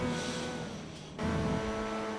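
A race car engine in GTA Online revving hard during a championship race at Pegasus Park, with a sustained high-rev tone that briefly cuts out and then surges back.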